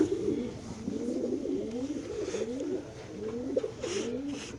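Racing pigeons coo close by in steady, repeated rolling calls that continue throughout.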